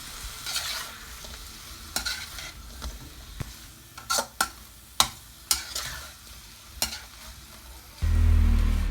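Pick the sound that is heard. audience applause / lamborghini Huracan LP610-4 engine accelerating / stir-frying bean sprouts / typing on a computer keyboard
stir-frying bean sprouts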